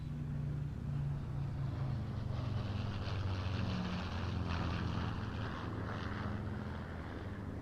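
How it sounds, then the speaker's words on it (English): A Lancaster bomber flies past with a Hurricane and a Spitfire of the Battle of Britain Memorial Flight at a Duxford flying day, a steady distant propeller drone that swells and fades. "here they come, ladies and gentlemen, the Lancaster, Yes. Hurricane and Spitfire of the Royal Air Force Battle of Britain Memorial Flight"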